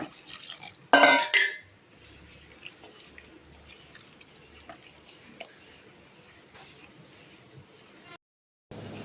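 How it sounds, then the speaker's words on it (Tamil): A utensil stirs thick wheat-flour dosa batter in a bowl with soft, steady scraping and sloshing, after a brief loud clatter at the start. "கட்டி விழாமல் நல்லா கலக்கி எடுத்துக்கணுங்க"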